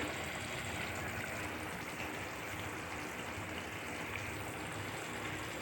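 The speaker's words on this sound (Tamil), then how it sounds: "கூட்டு கொதிச்சிட்ருக்கு." A pot of South Indian kootu curry simmers in a steady, even bubbling hiss with no distinct pops, continuous and close throughout, with no one speaking.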